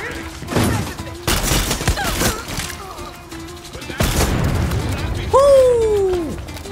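Shotgun blasts from the video game Far Cry 6, loud booming shots with explosions and gunfire crowding a busy battle scene, and a rising whistle near the end.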